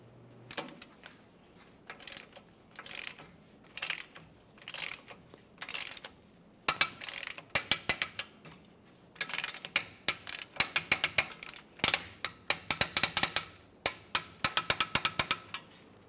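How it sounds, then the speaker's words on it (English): A wrench tightens bolts on a rear leveling kit for a 1999-2006 Chevrolet Silverado 1500, making close bursts of quick ratcheting clicks in a steady rhythm, with short gaps between strokes. "Now we can torque these to 53 foot-pounds."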